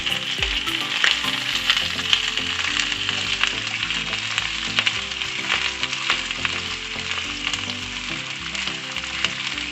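Korean rice cakes stirred in a frying pan with carrots, sizzling steadily throughout with scraping and clattering from the stirring, close and fairly loud.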